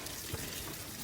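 A river flows beside an Airbnb in wintry Kandersteg, Switzerland, giving a brief, steady, fairly faint rushing wash of water.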